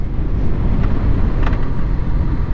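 Yamaha FZ6R motorcycle cruising in third gear at about 30 to 40 mph, a steady loud engine drone mixed with heavy wind rush, no speech.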